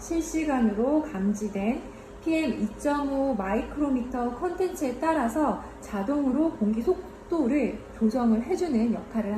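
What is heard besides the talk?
No distinct noise like a dog, phone or traffic.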